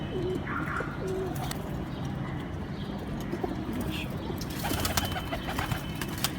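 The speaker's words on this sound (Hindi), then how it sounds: "ये हीनो कबूतर जी आपको दिखाया है पहला" Hino breed pigeons at a fancier's home loft coo softly in short, low bursts over steady background noise, with scattered faint clatter and no talk.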